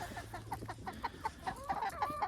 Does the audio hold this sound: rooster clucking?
yes